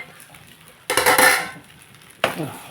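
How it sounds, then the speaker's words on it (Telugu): A metal lid clanks onto a cooking pot of red wheat rava upma with spinach, two sharp close rattling impacts about a second apart, the first ringing on longer, over quiet kitchen background. "మూత పెట్టేద్దాం"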